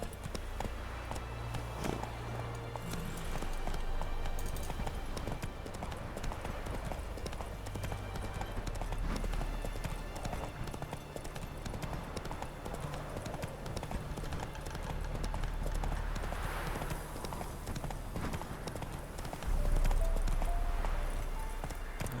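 Horse hooves clip-clopping at a steady gallop in The Witcher 3, a continuous rhythmic pounding that runs the length of the clip with faint game ambience and no talk over it.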